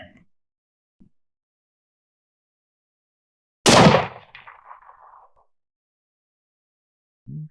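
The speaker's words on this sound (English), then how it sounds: "I'm shooting pretty fast with this big load" A single loud 7PRC rifle shot fired with a heavy load, a sharp close blast followed by a brief rolling echo, then quiet apart from faint sounds at either end.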